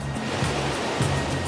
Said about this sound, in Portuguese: Os ventos ultrapassam 160 km por hora e as ondas ficam com mais de 6 metros de altura.